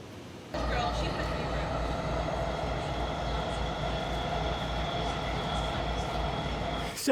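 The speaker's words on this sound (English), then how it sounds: "So I'm going to head to the SkyTrain and figure out which way I want to go after that." A Vancouver SkyTrain runs with a steady, loud rumble and hum that sets in after a quiet half second and carries on evenly to the end, with talk faintly in the background.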